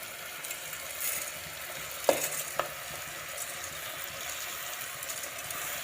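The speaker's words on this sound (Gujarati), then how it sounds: "હવે એમાં આપણે ચોખા ઉમેરી દઈશું।" Rice poured into a hot pan of sizzling tempering with red chilli while making Gujarati vagharela bhat, frying hiss throughout with a couple of sharp scraping stirs near the middle, close and fairly quiet.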